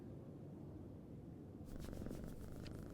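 A cat purring in a video game scene, a low steady rumble close by that grows slightly fuller partway through, heard alone without talk.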